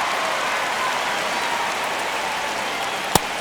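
Baseball stadium crowd in MLB The Show 25, a tense ninth inning against the Houston Astros: a dense, steady wash of crowd noise like rushing hiss, with one sharp click near the end and no talk.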